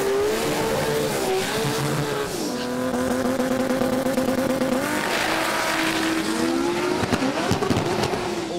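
A Toyota Supra drag car at Sydney Dragway roars continuously, its engine note rising and shifting through gears with tire squeal, loud and sustained without any voices.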